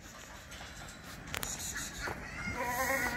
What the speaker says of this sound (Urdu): اے بکرے کا سنبھالو بھائی